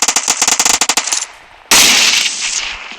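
Automatic gunfire in the mobile game PUBG Mobile Lite: a fast burst of sharp, close shots that trails off, then one loud blast with a hissing decay.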